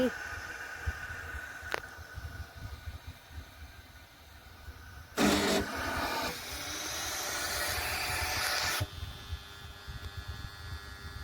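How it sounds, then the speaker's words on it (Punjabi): A repaired electric motor, fixed at its starter, runs with a steady hum and hiss. A louder broadband rush swells partway through, then eases back to the running drone. "ਚੱਲ ਪਈ ਮੋਟਰ ਹਾਂ ਚੱਲ ਪਈ"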